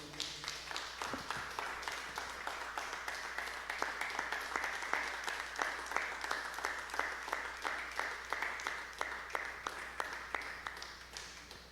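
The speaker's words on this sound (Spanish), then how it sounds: "Démosle un aplauso a Dios" Worshippers in a church clap for God in a steady, even stream of distinct, moderately quiet handclaps that keep a nearly regular rhythm throughout.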